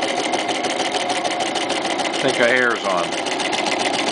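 Toyota FSG325 sewing machine running a triple stitch, a continuous close mechanical whir throughout, with someone speaking briefly over it midway.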